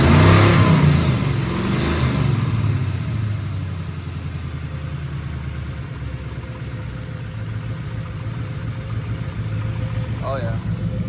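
A Ford Mustang Foxbody V8, started for the first time since 2006, revs loudly at first and then settles into a steady, rough idle close by, with people talking over it.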